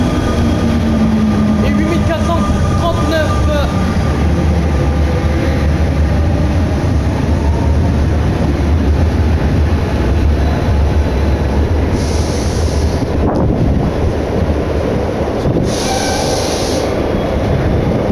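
RER A commuter train in Paris, on the La Défense–Châtelet-Les Halles line, rumbles and rattles steadily at close range with wheel noise and brief high squeals or hisses later on, under occasional talk.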